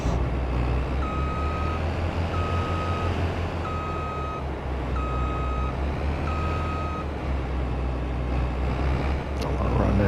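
A truck in Farming Simulator 22 backs up a trailer, its reversing alarm giving five evenly spaced beeps over a constant low engine rumble.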